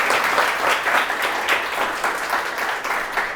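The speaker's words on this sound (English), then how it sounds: "can I get a big round of applause for everybody that I just mentioned" Steady applause from a conference audience at a web development talk, dense and continuous throughout without any break, with no voices on top.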